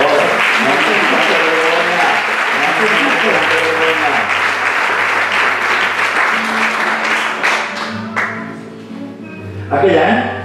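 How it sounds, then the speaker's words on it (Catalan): An audience at a theatre group's anniversary event applauds with sustained clapping, heard along with music and voices. "Un bon aplaudiment per tots ells i per favor."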